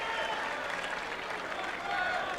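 A crowd applauds at a packed tennis match at the Los Angeles Tennis Center, dense clapping that runs steadily through the whole short moment, with a commentator talking over it.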